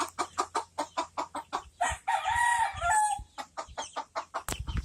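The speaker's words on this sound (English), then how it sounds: "Time for chickens. Rooster." On a farm, a rooster crows loudly and close by in the middle of a run of rhythmic, repeated clucking from chickens, the clucks pulsing steadily before and after the crow.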